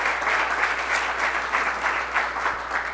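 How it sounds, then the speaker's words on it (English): An audience at a 2018 State of the Schools event claps for graduating students, a steady, moderately loud patter of many hands filling the room throughout. "I want to do a round of applause"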